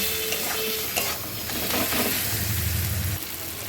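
Onion and tomato sauté with cumin in an oiled pan, a steady close sizzle with scraping stirs of a spatula, continuous and unaccompanied by talk.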